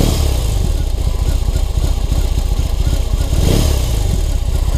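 A BMW R18 First Edition motorcycle's 1800 cc boxer engine idles with a deep, throbbing chug, then swells briefly as it revs before settling back. It is loud and close.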